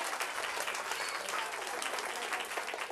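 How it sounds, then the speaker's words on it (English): An audience claps loudly and continuously at a live-streamed local event, dense applause sustained throughout without pause. "Clap loud for Amber."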